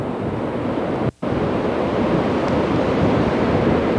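Steady wind and ocean surf roar around the stern of a ship, port side, as it enters Glacier Bay, Alaska, in early morning; continuous broadband rush with a brief dropout near the second mark.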